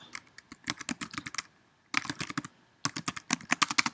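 Rapid keystrokes on a computer keyboard come in three quick bursts of close, crisp clicks with brief pauses between them, and no voices.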